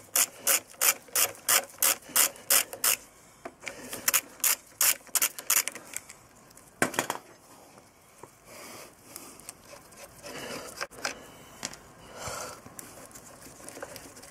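Hand wrench loosening the brake caliper bolts on a Suzuki GS500 motorcycle: a steady run of about a dozen quick ratcheting clicks, then slower scraping and rubbing of metal parts with a faint hiss, fairly close.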